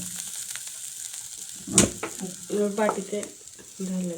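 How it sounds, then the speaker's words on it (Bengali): Low, steady sizzling of vermicelli frying until reddish in a pan, with occasional scraping stirs, close and clear, one sharper clatter midway. "এই যে ভেজে নেওয়া হচ্ছে এই যে ভেজে লাল করা হচ্ছে"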